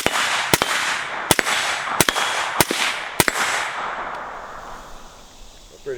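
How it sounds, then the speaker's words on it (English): A Troy rifle fires suppressed rounds outdoors: five sharp, evenly paced reports about two-thirds of a second apart, each with a short ringing tail, then the range goes quiet. "See if I can hit something."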